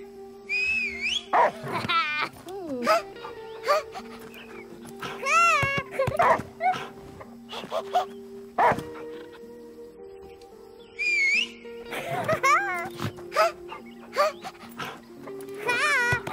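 A dog barks, yips and whimpers in the video game The Last Day of June, coming in intermittent clusters over soft ambient game music, with a few brief whistle-like tones mixed in.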